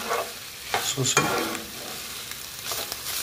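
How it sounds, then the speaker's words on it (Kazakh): Chopped liver filling for pirozhki frying in hot oil in a pan, a steady close sizzle with a few scraping stirs, and a brief word spoken over it. "Сосын бір үсті қуырып алатын боламыз."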